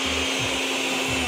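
Blender grinding vegetable tamale filling with grated nopal, a steady loud whirring motor drone close by with no pauses.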